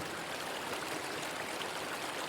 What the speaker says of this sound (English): The river is loud here, louder than either of them, tumbling and splashing over every stone.